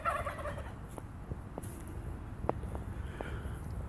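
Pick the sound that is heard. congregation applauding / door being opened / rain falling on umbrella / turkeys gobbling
turkeys gobbling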